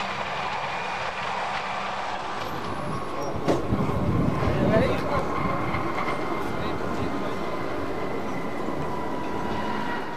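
A Wengernalpbahn electric rack railway train in Switzerland running along the track, giving a steady rumbling roll with faint clicks, a louder surge partway through, and voices talking over it.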